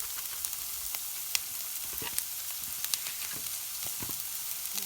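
Chopped onion and celery sizzle in a skillet with a steady, close frying hiss, broken by scattered crackles and light stirring clicks, and no talking.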